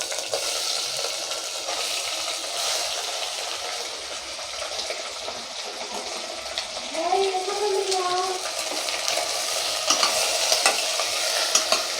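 Mutton pieces frying in a hot pan with cinnamon for Kerala-style mutton gravy: a steady, close sizzle throughout, with a few stirring scrapes and brief clatters over it.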